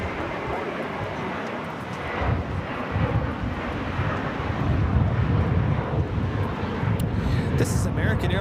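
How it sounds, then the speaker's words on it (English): An American Airlines A321 jet taking off at LAX, a broad roaring rumble that grows steadily louder and heavier, heard from a distance through wind buffeting, with brief voices in the background. "This is American Airlines Flight 4, taking off to JFK on the A321."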